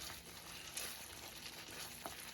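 Curry leaf thokku fries gently in oil in a pan, a faint, continuous soft sizzle with small pops, steady and quiet without any talk.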